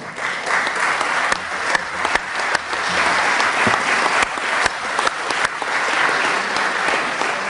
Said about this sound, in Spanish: mediante un aplauso para don Nicanor Parra